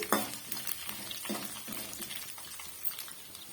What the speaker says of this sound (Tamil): இது எல்லாம் சேர்ந்து நல்லா பொறிஞ்சு வரட்டும் மீடியமான பிளேம்ல வச்சுக்கோங்க லைட்டா வந்து இது போல கிண்டி விட்டுக்குங்க